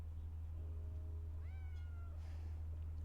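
A cat meows once in Death Stranding 2, a rising, drawn-out call that stands alone over a steady low hum.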